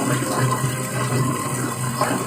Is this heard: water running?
yes